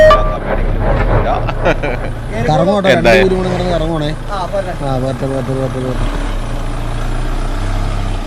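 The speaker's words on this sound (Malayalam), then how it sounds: "വണ്ടിയുടെ ടയറൊക്കെ കിടന്ന് കറങ്ങിയെങ്കിലും വണ്ടി മുമ്പിലേക്ക് തന്നെ കയറി കേട്ടോ" A 2020 Mahindra Thar automatic 4x4 climbs an off-road slope, its engine droning and labouring steadily up close. Voices talk over the engine partway through.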